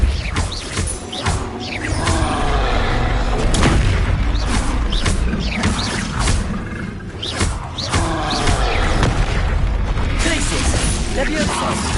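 Depulso spell effect in the Hogwarts Legacy video game: loud, dense booming bursts and crashing impacts that roll on continuously, with a voice talking over the game sound throughout.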